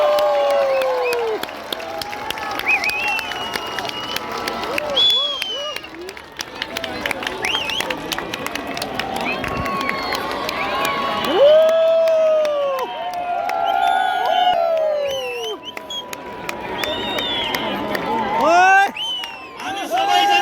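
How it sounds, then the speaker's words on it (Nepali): An outdoor Easter gathering in Kathmandu breaks into clapping and cheers as balloons are released, with lively crowd noise, shouts and children's voices mingling over continuous chatter and an amplified voice, fairly close and busy throughout. "जोरदार तालीका साथ हामी बेलुन उडाउनेछौँ।"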